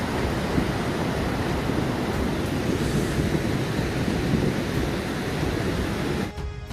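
The Saraswati river rushes near Mana village by Badrinath, a loud, steady broadband roar of churning water that fills the whole stretch, with no voices over it.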